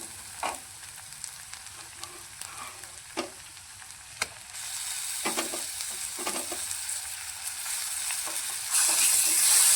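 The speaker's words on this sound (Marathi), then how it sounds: "कांदा पण चांगला फ्राय झाला पाहिजे" Finely chopped onion frying in oil in a pan for a spicy drumstick curry, a continuous sizzle with spatula scrapes and taps that swells louder toward the end, no voices.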